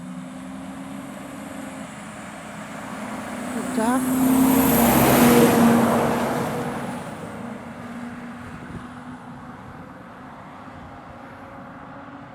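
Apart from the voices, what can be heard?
timber truck passing on the A75 road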